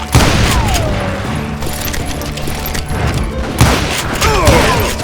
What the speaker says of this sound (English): Sounds like Garrett hired a whole regiment of hired guns.